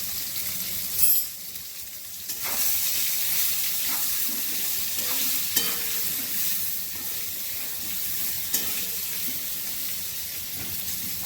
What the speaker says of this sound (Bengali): বেগুনগুলো একটু ভেজে নেব, একটু ঢাকা দিয়ে দিচ্ছি।